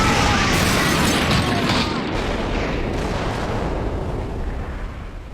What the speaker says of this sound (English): And in the midst of that explosion, all that's left of Saturn is a goddamn skeleton